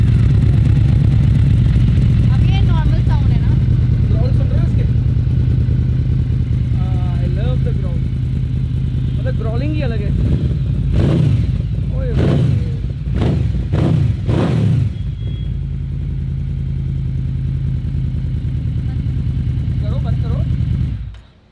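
A Yamaha VMAX superbike engine starts and runs with a steady, loud, close rumble throughout, while people talk over it, and revving bursts rise in the middle before the engine cuts off at the end.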